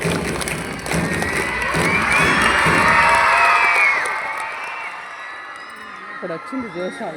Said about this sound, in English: give this young warrior the loudest and most enthusiastic applause